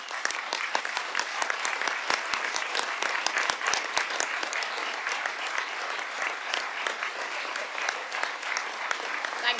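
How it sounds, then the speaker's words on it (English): Council chamber applause for a charity team at a city council annual meeting, a steady, moderately distant patter of many hands clapping that continues for several seconds and thins slightly toward the end. "Can you all stand up so we can give you a good round of applause?"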